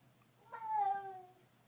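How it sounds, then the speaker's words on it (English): A domestic cat meows once, faint and somewhat distant in a quiet indoor room, with a single drawn-out call. "Could you hear my cat meowing in the background?"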